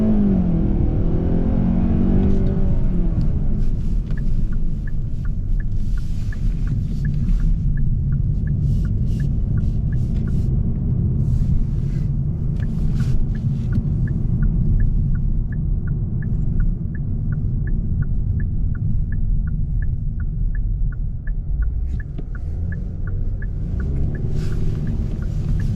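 A 2022 Hyundai Sonata SEL pulls away from a stop under power and then brakes, giving a steady low engine and road rumble heard from inside the cabin, with faint regular ticking over it.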